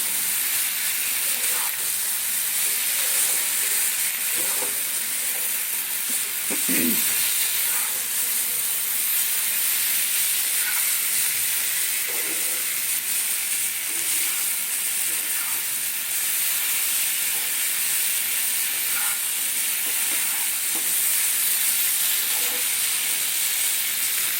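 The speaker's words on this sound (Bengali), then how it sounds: "এই আলু আর ওই খামার আলুটাকে দিয়ে দিলাম একসঙ্গে মশলার সঙ্গে একটু কষাবো" Potatoes and yam sautéing with spice masala in a pan give a continuous bright sizzle and hiss with small crackles, steady throughout and with no voices.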